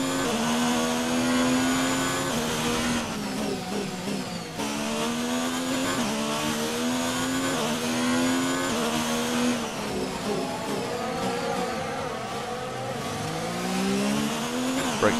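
Several F1 race car engines in the F1 2019 video game on a formation lap, loud and continuous, whining pitches rising and falling as the cars rev and shift close by.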